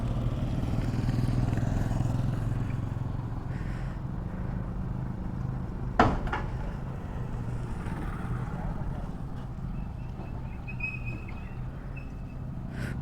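Motorcycle running as a bike taxi on a ride, a steady engine drone with road rumble and one sharp clatter midway, close and continuous.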